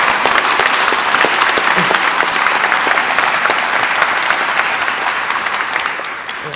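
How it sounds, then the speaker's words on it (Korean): Audience at an energy industry forum breaking into loud, sustained applause, a thick crowd clatter that runs strongly and gradually eases off toward the end. "그 박수로 한번."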